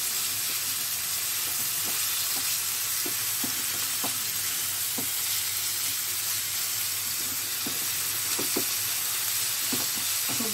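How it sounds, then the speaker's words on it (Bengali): Chicken pieces frying over a high flame for chicken jalfrezi, a loud continuous sizzle with scattered pops and stirring clicks, close and without speech. "ভালো করে ভেজে নেবো এটাকে, চিকেনটাকে"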